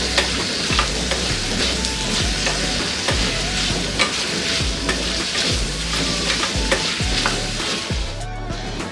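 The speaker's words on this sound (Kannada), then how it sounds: "ಈರುಳ್ಳಿ ಚೆನ್ನಾಗಿ ಫ್ರೈ ಆಗಬೇಕು." Onions for onion masala sizzle steadily in hot oil as a utensil stirs them, with repeated scraping strokes in a loose rhythm over a constant bright frying hiss, close and moderately loud, no talking.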